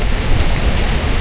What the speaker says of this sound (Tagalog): Patitilayin ko lang muna tong ulan